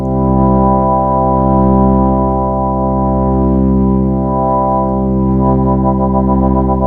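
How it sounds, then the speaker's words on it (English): A Yamaha CK61 organ plays a steady sustained chord with its rotary speaker stopped in brake mode, giving a static, unwavering drawbar tone held without swirl, close and fairly loud. "You can even stop the rotation of the speakers. That's called the brake mode."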